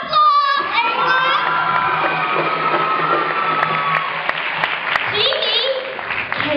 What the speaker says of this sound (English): Give her another round of applause, everyone!